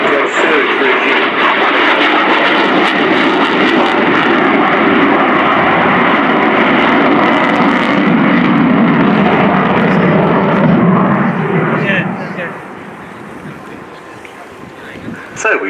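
Loud, continuous roar of Su-27 Flanker fighter jet engines at an air show display, with wind buffeting, holding steady for most of the clip before dropping away sharply near the end.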